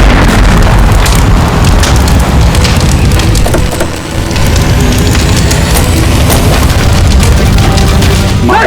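Loud, dense crackling and roaring fire after an explosion, with sharp wood-like snaps and pops over a constant rumbling wash, steady throughout with a brief dip midway.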